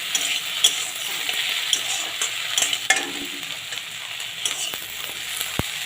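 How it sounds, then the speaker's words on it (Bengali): Okra sizzles and hisses steadily in a hot pan while being stirred, the frying noise broken by occasional clinks and scrapes of a utensil, close and continuous with no talking. "এবারে গ্যাসটাকে বাড়িয়ে আমি নেড়ে করে ভেজে নেব"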